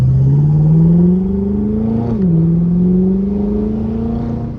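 A BMW F10 M5 with Turner muffler deletes cruising in auto mode, its engine note climbing smoothly through a gear, dipping at a quick upshift near the middle, then rising again, loud and close with no talking.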